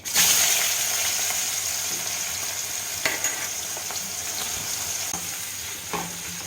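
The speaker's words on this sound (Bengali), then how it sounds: "কালো জিরে ফোড়নের গন্ধ ছাড়লে দিয়ে দেবো কুচনো পেঁয়াজ" Chopped onions fry in oil with black cumin and dried red chillies, a loud sizzle at first that settles into a steady hiss, with a few light spatula scrapes scattered throughout.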